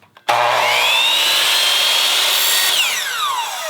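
A power saw bites into aluminum top railing for a deck, a loud, close, high metallic whine that sustains through the cut and then falls in pitch as the blade winds down.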